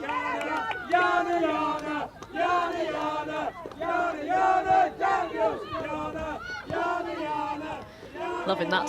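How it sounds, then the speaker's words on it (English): Bristol City supporters at a Women's Super League football match against Manchester City sing loud, sustained chants together, a massed crowd voice rising and falling in phrases throughout. "Good songs from the Bristol City crowd here."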